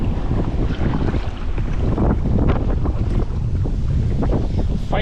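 Strong wind buffets a small boat on the Merrimack River in Lowell, Massachusetts, a loud, steady roar of gusts and microphone wind noise with water sloshing against the hull throughout, no voices.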